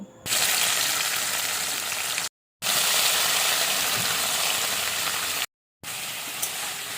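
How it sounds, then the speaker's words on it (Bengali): Paneer frying in white oil in a kadai-style wok gives a loud, steady, close hiss of bubbling oil, broken into three stretches by two brief silent gaps. "এবারে কড়াইতে সাদা তেল দিয়ে প্রথমে পনিরগুলোকে অল্প অল্প লাল লাল করে ভেজে নেব"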